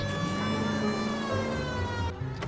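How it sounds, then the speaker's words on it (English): A police siren in the video game L.A. Noire wails continuously with a steady, harmonic-rich tone, loud and close, cutting off abruptly near the end. "there's my effing siren. Do you not hear it?"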